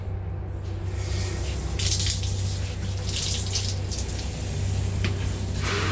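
Tap water sprays steadily while a bathroom's shower area is rinsed during toilet cleaning, a continuous close hiss of running water with a constant low hum underneath and no talking.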